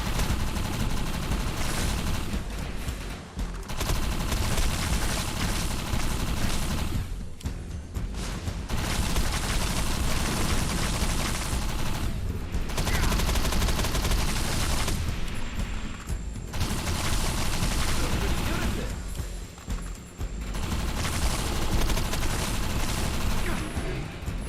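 Gunfire from a shooter in the video game Defiance rattles in long, dense, loud bursts. A few brief pauses break up the near-continuous shooting.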